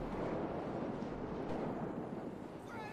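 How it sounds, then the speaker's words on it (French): Distant explosions in a video game, heard as a continuous low rumbling roar with wind-like noise, moderately faint and steady, with no distinct individual blasts. "Non, c'est des explosions."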